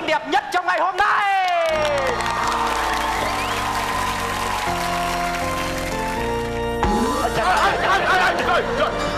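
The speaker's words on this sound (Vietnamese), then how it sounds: "Và sau đây một tràng vỗ tay to dã man đón chào cô dâu xinh đẹp nhất trong ngày hôm nay." At a wedding in a Vietnamese comedy sketch, an audience claps and cheers to welcome the bride, the applause mixed with loud music, scattered laughter and voices.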